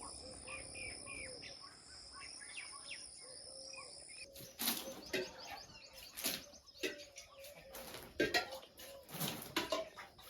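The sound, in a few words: morning village birdsong, crows and koel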